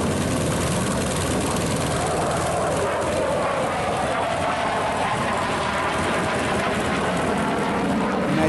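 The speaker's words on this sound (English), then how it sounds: "As we listen to the right R-1300 engine, seven-cylinder radio engine, we hear jets overhead also." Loud, continuous roar of a seven-cylinder R-1300 radial engine running on a U.S. Navy trainer at the EAA AirVenture airshow, with jet noise overhead blending into the steady drone.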